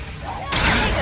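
The Confringo fire-blast spell cast in the video game Hogwarts Legacy, a single sudden whooshing blast that cuts in halfway through and roars on loudly to the end, following a quieter lead-in.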